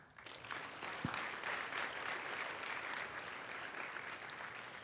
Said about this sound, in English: I really want the crowd to please give a round of applause to the folks that made this conference possible.